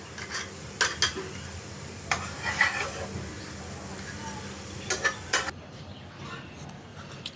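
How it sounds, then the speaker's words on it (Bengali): Oil crackles and sizzles steadily as sesame fritters fry and are turned, with a few sharp scraping clinks from a utensil against the pan; the frying cuts off near the end. "আবার উল্টে পাল্টে ভেজে নিলাম"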